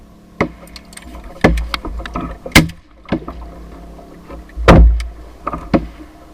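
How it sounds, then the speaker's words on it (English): A shot teal duck falls and lands on the wooden bow of a hunting boat during a New Jersey duck hunt, heard as several sharp, close knocks and thumps spaced apart with quiet in between. "you can hear the teal that I shoot falling and actually landing on the bow of the boat"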